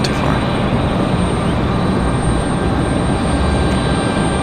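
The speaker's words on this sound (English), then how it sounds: "There's our 777 One World for American Airlines." An American Airlines Boeing 777 in oneworld livery arriving at Raleigh-Durham International from Charlotte, a steady, loud, broadband engine roar that stays constant throughout without pause.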